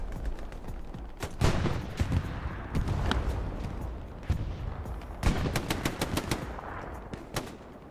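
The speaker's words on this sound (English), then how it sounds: "I think it was with the shotty" Shotgun blasts in an online shooter game, a series of loud sharp reports in irregular clusters with brief pauses between volleys, close and dominant, with no talk over them.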